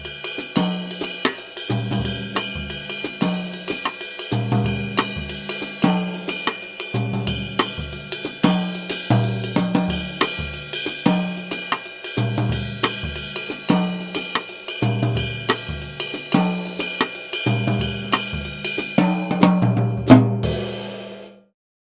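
A Latin mambo pattern played on a drum kit with the cymbal bell carrying the rhythm, a bright, ringing repeated ping over steady low drum strokes, played solo and ending with a final crash.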